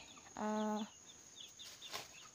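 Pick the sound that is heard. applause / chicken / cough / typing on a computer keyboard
chicken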